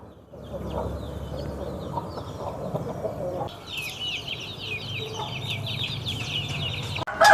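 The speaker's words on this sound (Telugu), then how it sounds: "మొత్తం ఒక పెట్ట మూడు పుంజు పిల్లలు" Hens and young roosters of a fighting breed at a sale cluck in steady, moderately close bursts, with occasional sharper calls and a brief flutter near the end, over a continuous background hum.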